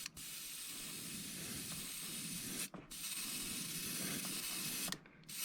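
A paint sprayer hisses steadily over a stencil, turned to lower pressure, a close continuous spray broken by two short pauses between passes, with no talking.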